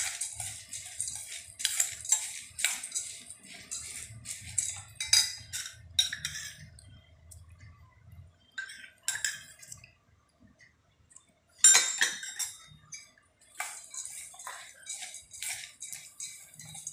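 A spoon clinks and scrapes against a bowl while bhelpuri is mixed, with bursts of rapid rattling taps, a short pause, then a sharp clatter and more stirring; no voices.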